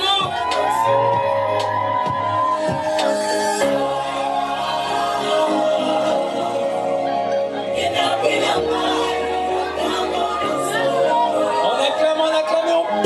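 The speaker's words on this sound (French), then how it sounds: "On acclame et on pousse des cris de joie." Wedding guests cheering and whooping with joy as the bride arrives on her father's arm, a loud continuous crowd din of shouts and chatter over steady music.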